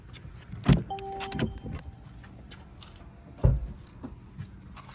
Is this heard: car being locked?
yes